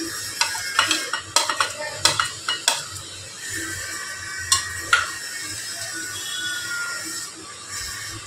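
Chopped green beans and chilli stirred in a frying pan, a spatula scraping and clinking in uneven strokes over a steady low sizzle, close and fairly quiet, with no talking.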